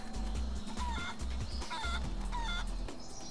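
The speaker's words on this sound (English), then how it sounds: "And we transform into a chicken." A chicken clucks repeatedly in the video game Guacamelee, with a series of short clucks over a steady game soundtrack with rhythmic low thumps.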